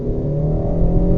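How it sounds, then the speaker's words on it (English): Engine of a 2008 Honda Civic Si revving hard into VTEC, a loud steady droning roar heard from inside the car, with the pitch rising slightly as revs climb. "Let's see if we can get one more little VTEC in"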